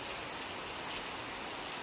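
Heavy rain falls over a village in a dense, even hiss that stays constant throughout.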